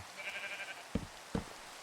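Minecraft sheep give two short bleats a moment apart over a faint background tone, quiet and close.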